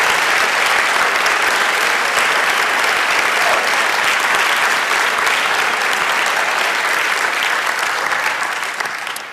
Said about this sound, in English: would you give him a round of applause?